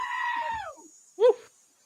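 A screaming goat sound effect gives a long, wavering bleat, then a short sharp cry after a brief pause, loud and close.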